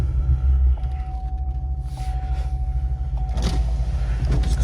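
A supercharged Chevrolet SS with headers fitted rumbles to life and settles into a loud, steady, deep idle close by, with a faint whine running over the low throb.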